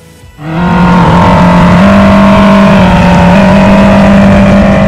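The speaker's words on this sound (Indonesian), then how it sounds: "Suara artifisial yang dihasilkan cukup keras dan bisa terdengar oleh pengendara lain." An artificial engine sound from a 2021 United T1800 electric motorcycle starts abruptly and holds a loud, steady synthetic drone with layered tonal pitches. It stays close and sustained with no talking.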